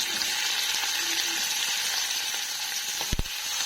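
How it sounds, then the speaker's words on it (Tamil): Onions and curry leaves fry in hot oil for a Tamil sardine fish curry, giving a steady close sizzle, briefly punctuated by a stir or clatter near the end. "வெங்காயம் பொன்னிறமாக வதங்கினதுக்கப்புறம் ஒரு கொத்து கருவேப்பிலை சேர்த்துக்கலாம்."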